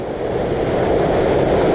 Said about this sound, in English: This is Magia Blanca waterfall.